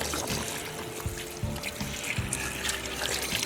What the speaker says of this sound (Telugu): సరిపడా వాటర్ యాడ్ చేసుకోవాలి.